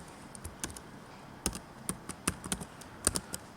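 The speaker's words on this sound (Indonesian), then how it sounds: "Langkah selanjutnya kita bisa mengetik yang namanya Portal Office" Close keystrokes on a computer keyboard as a web address is typed into a browser, with a dozen or so crisp taps in uneven bursts against a quiet background.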